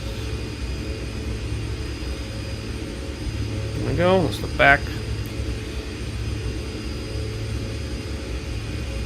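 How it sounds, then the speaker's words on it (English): A flight-simulator airplane engine in X-Plane 10 drones steadily throughout as a low, continuous hum, with a person talking briefly over it partway through. "Poor people who have to listen to airplanes all day."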